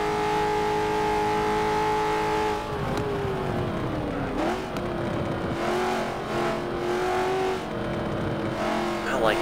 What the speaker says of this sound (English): I like the sound of this Mustang too.